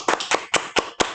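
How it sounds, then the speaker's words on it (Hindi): About six sharp, evenly spaced hand claps from students in a classroom, close and distinct with short gaps of silence between them. "तालियां।"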